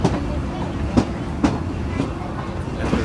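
Disneyland Railroad train rolling on its tracks near the park's loading area, with a steady rumble and a regular clickety-clack of wheels over rail joints, with faint voices in the background.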